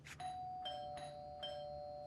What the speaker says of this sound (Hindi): ये घंटी की आवाज मैं बर्दाश्त नहीं कर सकता